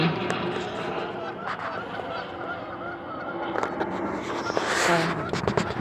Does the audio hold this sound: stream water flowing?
no